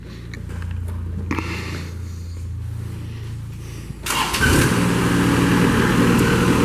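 Engine of a 2013 Moffett M70 turbo truck-mounted forklift idling with a low steady drone, then a loud start-up surge as it fires and settles into a rough, throbbing run, close by with no talking.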